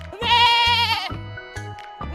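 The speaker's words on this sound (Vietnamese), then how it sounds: "Con dê." A goat gives one long, wavering bleat up close, followed by brief softer animal sounds over a plain background, with no speech.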